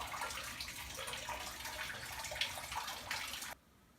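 Fresh prepared water being poured to top up an aquarium tank, a steady splashing rush with small bubbling bursts, close and continuous before stopping abruptly near the end.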